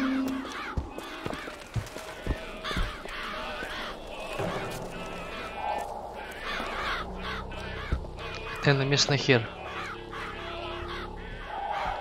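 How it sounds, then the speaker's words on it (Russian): Crows in the BioShock Infinite video game caw repeatedly over a city ambience, with a louder burst of calls near the end, and a man briefly mutters. "Вороны, блядь, гавкают."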